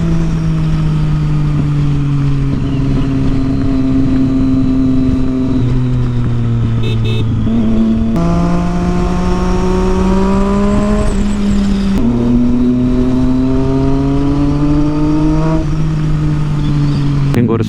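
Triumph Street Triple motorcycle with a Yoshimura exhaust roaring loud and close, revving up through the gears in long rising pulls with brief dips between shifts.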